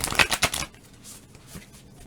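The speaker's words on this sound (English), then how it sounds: "sometimes these cards are hard to shuffle" Tarot cards are shuffled in a few quick riffling bursts at close range, followed by quieter handling and soft rustles.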